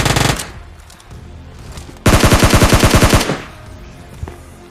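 Automatic weapon fire in the mobile battle royale game PUBG Mobile Lite: a brief burst opens, then after a pause a loud, sustained rapid string of shots rattles for about a second before cutting off.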